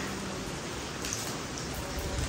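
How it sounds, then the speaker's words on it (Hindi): Steady rain falling outdoors, a soft continuous hiss of drops across a courtyard, fairly faint and even with no talk over it. "ये चेक कर लो बारिश हो रही है, बल्कि तुम वॉइस सुनो"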